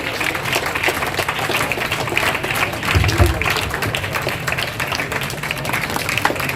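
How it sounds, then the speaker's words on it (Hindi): Loud, sustained applause from an audience at a community grain distribution event, with dense continuous clapping filling the clip and a brief swell near the middle. "जोरदार तालियां बजनी चाहिए"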